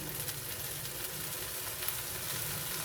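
Cha om, a Thai acacia-leaf omelette, sizzles and fries steadily in a hot pan as Thai street food, a close, continuous crackling hiss with no talk over it.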